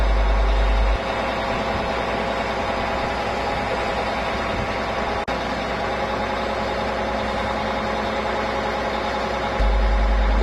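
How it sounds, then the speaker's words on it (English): A road-rail crane tug's diesel engine runs loud and steady at close range while its rear road wheels are lowered, with a heavy, continuous mechanical drone and no talking. "The tug's rear road wheels are lowered"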